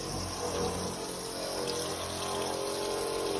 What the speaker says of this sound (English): All we're gonna do is add some water to this.